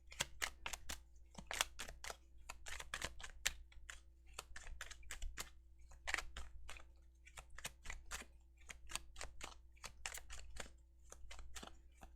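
Rapid, irregular clicking and flicking of stiff tarot cards being shuffled, close and steady, continuing in bursts for the whole stretch with no voices.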